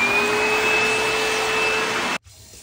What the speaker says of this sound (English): I really like my vacuum because I can go under literally everything